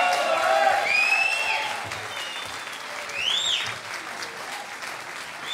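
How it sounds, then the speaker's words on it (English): A concert crowd at a holiday jam claps steadily for several seconds after a performance, dense and loud, with shrill whistles rising above the applause. "Another round of applause, please."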